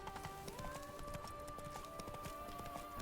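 Roach the horse trots in The Witcher 3, its hoofbeats a quick, steady clip-clop beneath a sustained musical tone, soft and continuous throughout.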